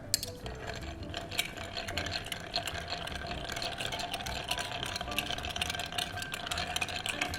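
Rum cocktail stirred down over plenty of ice in a mixing glass, a steady, continuous clinking and rattling of ice heard up close throughout, with no talking.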